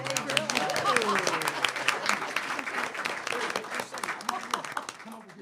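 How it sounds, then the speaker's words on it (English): A crowd at a school board meeting gives a warm round of applause, a dense, sustained clatter of many hands with voices and cheers mixed in. "Let's all give Dylan Perkins a round of applause."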